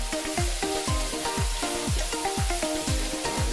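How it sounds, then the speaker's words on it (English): Pre-cooked beef sizzles steadily in hot olive oil in a pan, a continuous close frying crackle with a regular repeating scrape as the meat is stirred, no voices. "I'm browning it for just a few seconds in some olive oil."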